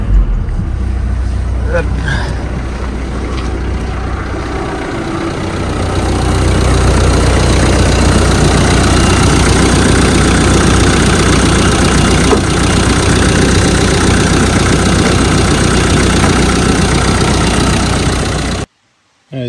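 A car engine starts quickly and then idles in a steady, loud, close rumble that runs for well over ten seconds before cutting off. A voice speaks briefly near the start.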